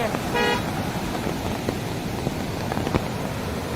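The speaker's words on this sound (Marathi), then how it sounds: "लगेच हॉर्न वाजवालीत मागे समोरनं गाड्या येत आहेत" A short car horn toot sounds once near the start, followed by the steady rumble of passing traffic.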